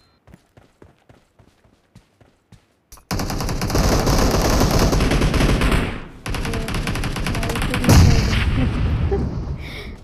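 Rapid automatic gunfire in the mobile shooter BGMI during a team deathmatch: a few sparse single shots, then a dense, loud sustained burst that briefly drops out and resumes with heavy continuous firing.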